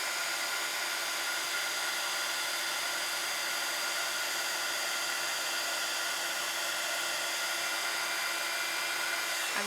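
A heat gun blows a constant, loud, even whoosh while warming a handmade card from underneath, running steadily for nearly ten seconds with no voices.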